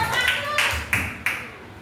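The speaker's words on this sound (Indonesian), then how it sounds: "Tepuk tangan untuk Jara." A handful of sparse claps ring out in a classroom, three or four sharp, separate hits at moderate volume in a quiet room, with a voice audible briefly at the start.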